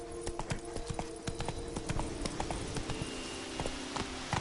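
Hooves of the horse Roach clip-clop in a steady galloping rhythm through a video game scene, close and continuous, with faint background game ambience and a brief voice.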